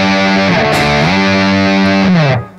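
Heavily distorted electric guitar holds a chord and slides it up and down the neck while fretted, a loud buzzing sustained tone that swoops twice before cutting off.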